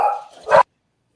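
A dog barks: a short whine followed by a single close, sharp bark, then silence.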